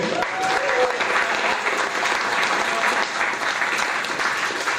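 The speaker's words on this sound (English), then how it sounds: "Round of applause for David Crow and all the organizers here." Audience at a tech demo event claps steadily in a thick, sustained round of applause that continues evenly for several seconds.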